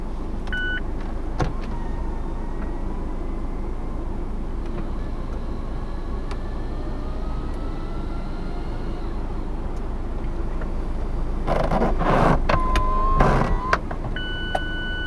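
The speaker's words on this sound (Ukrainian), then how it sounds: "Давайте закриємо дах, тому що вже щось так прохолодно, і увімкнемо обігрів" Power roof of a Mazda MX-5 roadster closing, a loud electric motor hum with mechanical clunks and latching thuds toward the end, heard from inside the car.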